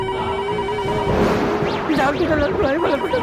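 A telephone ringtone plays with a rising and falling warbling melody during heavy rain at night in the Hindi sitcom Taarak Mehta Ka Ooltah Chashmah, while a voice sings a short phrase over it.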